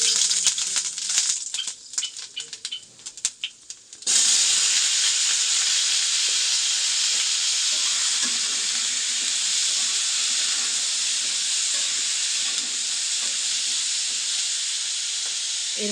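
Panch phoron spices hit hot oil for a potato curry and erupt into a loud, sustained sizzle that holds steady after a few seconds of quieter scraping and clatter.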